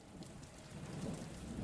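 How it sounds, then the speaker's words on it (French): Heavy afternoon rain pours down in a steady, dense hiss, with a low rumble swelling slightly underneath toward the end. "la forte pluie qui tombe à nouveau, presque tout l'après-midi"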